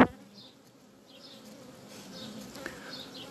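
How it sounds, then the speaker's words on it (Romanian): Inside a honeybee hive, a virgin queen gnaws and stings a queen cell amid a soft, steady hum of bees, with faint higher buzzes coming and going. "haideți să vă arăt și dumneavoastră cum procedează matca. O roade pe botcă, o înțapă"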